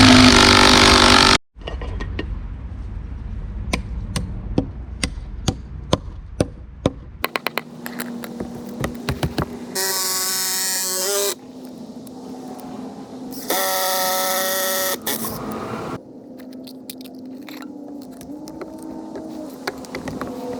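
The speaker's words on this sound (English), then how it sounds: "I'm just going to put the lag bolt into the pocket so it sinks deep into the next post" A lag bolt is driven with a power tool into a pocket in a wooden post, sinking deep into the next post: short bursts of whirring, loaded motor drone separated by quieter handling knocks and taps.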